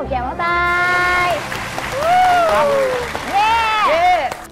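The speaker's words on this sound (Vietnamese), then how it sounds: "Mọi người ơi, cho tôi một tràng pháo tay." A group of people applauding on a Vietnamese comedy game show, steady clapping throughout with cheers and excited voices mixed in and over it.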